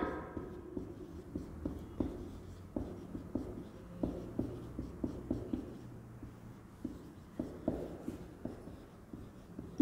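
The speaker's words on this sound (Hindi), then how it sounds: "याद रखने के लिए लिख लेते हैं।" A pen or pencil writes by hand on paper, close and soft, with a series of quick scratchy strokes and taps in an uneven rhythm.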